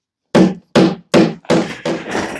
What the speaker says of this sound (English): I should be able to just hammer them in this side.